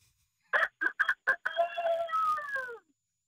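A voice imitates a rooster crow: several short clipped whoops followed by a long drawn-out wavering crow, close and alone.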